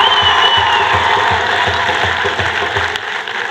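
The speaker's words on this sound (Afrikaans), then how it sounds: "Kom ons gee vir hulle lekker hande klap." A rugby crowd at a school match applauds the sponsor FNB, with sustained clapping and scattered cheers and whoops from many people, loud and close throughout.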